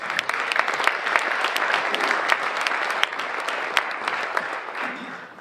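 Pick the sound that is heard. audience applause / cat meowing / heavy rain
audience applause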